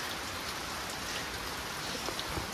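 Steady rain pours down at a night-time outdoor shelter in the hills, a dense, even hiss of drops drumming on surfaces throughout with no voices.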